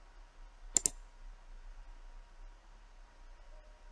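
Two quick, crisp mouse clicks on the start buttons of the XAMPP control panel sound close together near the start, followed by a faint, quiet room hum.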